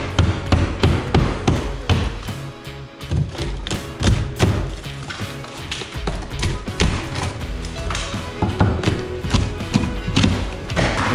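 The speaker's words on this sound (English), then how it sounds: "Keep ripping this drywall out here." Drywall being torn out of a wall during a guest house renovation, a dense run of close, loud thuds, cracks and crumbling knocks coming in irregular bursts with no talking.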